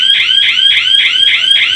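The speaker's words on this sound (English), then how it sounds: "so that was the alarm." A loud electronic alarm blares in rapid repeating pulses, each a piercing shrill whoop, with no voices present.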